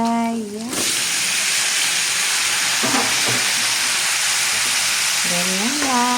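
Vegetables hit a hot pan and fry with a loud, steady hiss and sizzle that runs throughout, while a voice speaks briefly at the start and again near the end.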